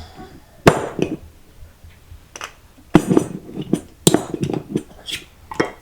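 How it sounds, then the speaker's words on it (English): Hard clinks and knocks of a glass jar of home-canned butter peas being opened in a kitchen, a few sharp separate strikes and rattles spaced apart with quiet gaps between them. "we're going to go ahead and open the butter peas"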